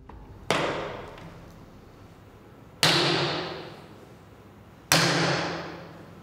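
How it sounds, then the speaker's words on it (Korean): A welding hammer strikes a pig skull test block covered with pig skin, three sharp impacts spaced a couple of seconds apart, each with a bright crack that decays slowly, heard alone. "먼저 용접 망치로 실험했습니다."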